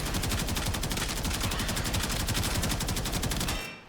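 A Kuva Karak assault rifle in Warframe fires in a fast, steady automatic burst of evenly spaced sharp shots, loud and close, holding a regular rhythm for several seconds before cutting off abruptly.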